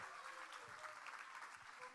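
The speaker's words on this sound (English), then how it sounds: "Could you give her a round of applause?" An audience at a Thursday night church gathering applauds a student being welcomed to the front, the clapping faint and distant with some indistinct voices mixed in.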